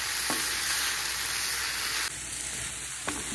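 Steady sizzling in a pan while red chilli and oregano are stirred through, with a couple of soft utensil taps and the frying dropping slightly quieter partway; no talking.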